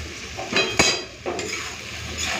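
Chopped onions fry in a pan with salt and bay leaves for a thin mutton and potato curry, giving a steady sizzling hiss broken by a few sharp utensil clinks and stirring scrapes close by.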